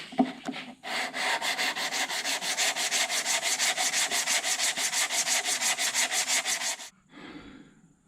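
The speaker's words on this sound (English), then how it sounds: "I still have to finish the body work on the other side, finish sanding that out" Rhythmic back-and-forth hand sanding of body filler on a 1972 Chevy C10 sheet metal panel, a steady scratchy rasp repeating about three or four strokes per second for several seconds before stopping.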